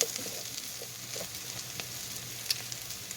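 Potatoes, bacon and onion sizzle softly in a frying pan, a steady faint crackle with occasional pops, no voices.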